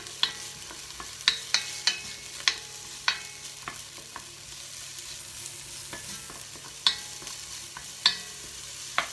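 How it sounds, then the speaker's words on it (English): Vegetables sizzle gently in a large soup pot, with a soft frying hiss throughout and sharp clinks of a utensil striking the pot as they are stirred at irregular intervals. "Let those cook just for a minute. Stir them around slightly."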